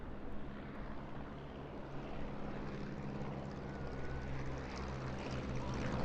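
A Stampe biplane's propeller engine drones steadily as it flies at an airshow in Eastbourne, a continuous mid-distance hum with broadband wind noise and no talk.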